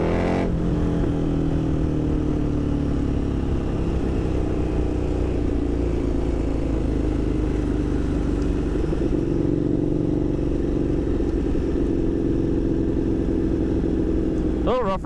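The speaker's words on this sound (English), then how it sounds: "I want to hear this bike under the 94 tunnel" A motorcycle engine drones loudly and steadily while riding along rough back roads, a continuous close rumble with shifting revs, and wind noise and a voice can be heard faintly underneath.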